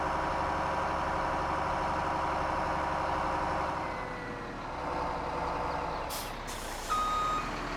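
A Peterbilt 379 truck in Farming Simulator 17 reverses with a steady run of loud, evenly spaced backup beeps over a low idling diesel, followed near the end by sharp hissing air-brake releases.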